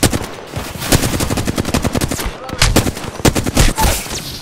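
Rapid bursts of automatic weapon fire from an Apex Legends firefight crackle almost without pause, loud and close, with overlapping shots and a few louder cracks near the end.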